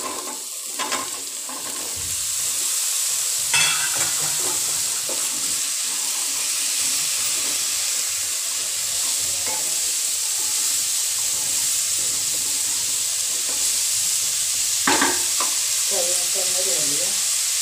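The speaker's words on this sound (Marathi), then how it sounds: "हे भोपळं घालूया" Pumpkin pieces sizzle steadily in a frying pan over low heat, with a few scraping stirs of a spoon against the pan standing out now and then over the continuous frying hiss.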